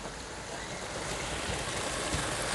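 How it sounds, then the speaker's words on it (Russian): Boiling water poured into a kazan of Uzbek Fergana plov cooking over an open fire outdoors, a continuous rushing, splashing pour with a roaring, broadband wash that stays steady and close. "Марат, я наливаю кипяток."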